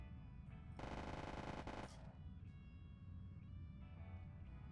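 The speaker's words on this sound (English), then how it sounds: "Love the way they did the minigun." A minigun in the video game Zero Falls fires one loud, sustained burst of rapid shots lasting about a second, then gives way to quieter background game noise.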